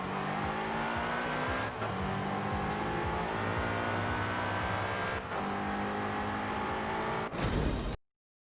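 An Evolved BMW M5 on a quarter-mile drag run in Forza Horizon 4: a loud, sustained engine roar climbing in pitch through each gear. Two brief dips mark the upshifts, and the run ends with a short burst before cutting to silence.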